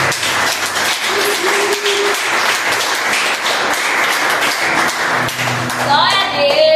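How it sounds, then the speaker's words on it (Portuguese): In a Baptist church, the congregation applauds loudly and steadily in dense, continuous claps. Toward the end, sustained musical tones from an instrument sound beneath the clapping. "Aplauda o Senhor Jesus."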